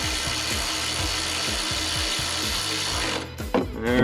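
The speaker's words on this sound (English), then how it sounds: "Take my handy dandy ratchet" A hand ratchet works a bolt on a Jeep Wrangler JL shock, giving a brisk series of even clicking strokes, close and loud, that ends in a few heavier clunks.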